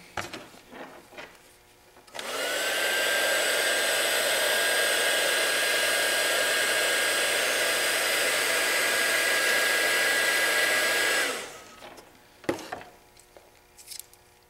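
A heat gun blows steadily for about nine seconds while shrinking heat shrink tubing over wiring, a loud, even, airy roar that starts and stops abruptly, with small handling clicks before and after.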